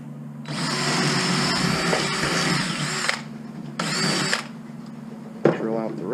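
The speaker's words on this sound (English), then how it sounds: "drill out the rivet." A power drill with a 3/16 bit drills out a rivet on a shark tooth sifter handle: a loud, close, steady whine for about three seconds, a short second burst, then a brief scrape.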